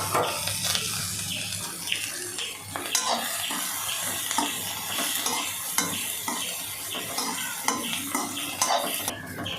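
Carrots and beans fry in a pan over an open flame, a bright, steady sizzle close by, broken by repeated scraping and clattering strokes of a spoon stirring the vegetables, with no voices.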